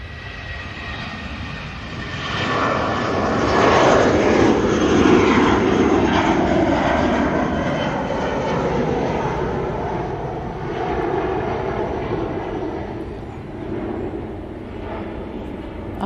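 Airliner jet engines at Manchester Airport: a loud, broad roar that swells over a few seconds and holds steady with a rushing, whining edge, no talk over it.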